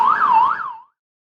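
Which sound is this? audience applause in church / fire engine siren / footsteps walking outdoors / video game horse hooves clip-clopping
fire engine siren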